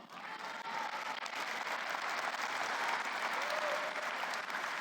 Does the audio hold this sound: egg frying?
no